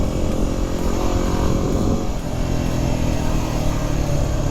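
A Yamaha WR250R dirt bike's small 250 engine drones steadily at close range, a continuous buzzing rumble with no other sounds standing out.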